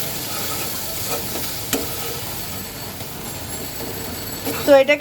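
Pointed gourd sautéing with spices in a pan gives a steady broadband frying hiss with occasional stirring scrapes, fairly close, ending with a couple of louder knocks.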